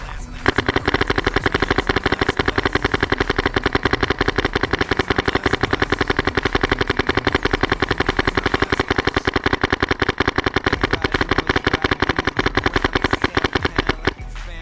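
A GSL paintball gun fires a long, steady stream of rapid repeated shots, evenly spaced and loud, continuing for roughly fourteen seconds with no talk over it.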